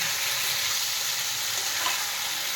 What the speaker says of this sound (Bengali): রসুও কষিয়ে চিকেন শুরু হয়ে গেছে।